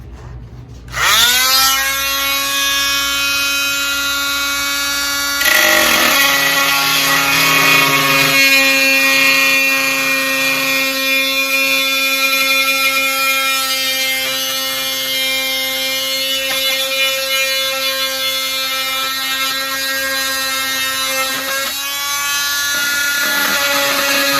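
A power tool with a cutoff wheel whines steadily as it scores and trims a factory fiberglass composite hood on a 1982–1992 Camaro, loud and close, with a brief pause midway before cutting resumes; no talking.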